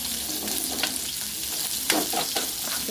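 Onions sizzling in a pan for ginisang pusit, a steady close frying hiss with a few stirring scrapes and clinks of a utensil near the end.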